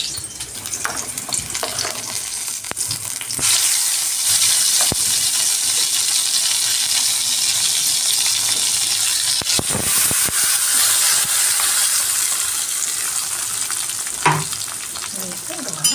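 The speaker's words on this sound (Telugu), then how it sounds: "పచ్చిమిర్చి వేసాక బాగా వేగనివ్వాలి. మనము అంటే మిశ్రమాన్ని కూడా యాడ్ చేద్దాము." Green chillies and a spice mixture fry in a pan for egg ullikaram, a loud, constant sizzle broken by occasional scraping and clinking as the pan is stirred.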